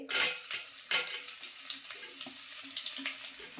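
Chopped onion dropped into hot oil in a pan with bay leaves for chicken pulao, a loud burst of sizzling at the start and again a second later, then a steady crackling fry with light stirring scrapes.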